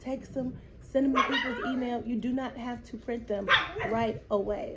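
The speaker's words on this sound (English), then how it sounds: "Excuse my dog." A dog barks and yips in short bursts close by, mixed in under a person's continuous talking.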